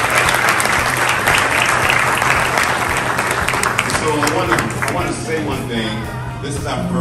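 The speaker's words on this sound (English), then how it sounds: "Give yourself a round of applause." Gala audience applause, a loud, dense burst of clapping that holds steady, then thins and fades toward the end as a voice begins speaking.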